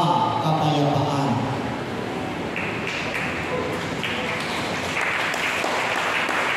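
A church congregation applauds in a continuous, dense wash of clapping during a healing service in Lower Bicutan, Taguig City. A speaking voice is heard at the start.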